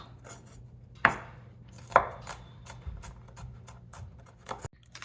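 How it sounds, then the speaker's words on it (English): Knife roughly chopping peeled garlic on a cutting board: two sharp, close thuds followed by lighter, irregular taps, with quiet kitchen background between strikes. "Give it a rough chop."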